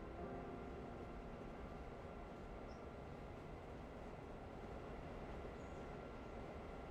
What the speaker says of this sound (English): get the pasture train going